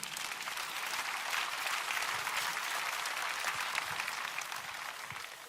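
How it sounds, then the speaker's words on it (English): A church congregation at the SCOAN altar claps for Jesus Christ, a dense continuous patter of many hands, fairly distant and soft, with no voices standing out. "Let's clap for Jesus Christ."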